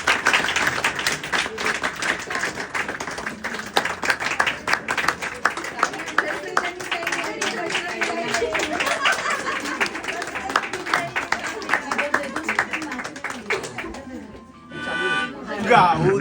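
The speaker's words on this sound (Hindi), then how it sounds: "चलिए ताली बजा दो" A crowd at a church carol gathering claps continuously in a dense, lively patter, with voices mixed in, before the clapping briefly drops and then picks up again near the end.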